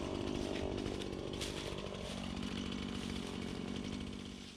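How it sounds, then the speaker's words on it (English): A chainsaw cuts into the ice of a frozen farm pond in winter, its engine droning loud and steady for several seconds before easing off slightly at the end, with no voices. "So I'm gonna try the chainsaw to see if it makes this ice breaking a little bit easier"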